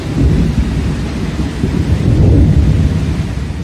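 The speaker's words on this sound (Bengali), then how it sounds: "হচ্ছে একেবারে বজ্র সহ বৃষ্টি।" Steady heavy rain pours down before dawn in Pattaya, Thailand, with deep rumbling thunder rolling through, no voices present.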